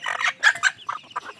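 Hens cluck in a short burst close by, a quick run of sharp, uneven calls with brief gaps between them, no talking.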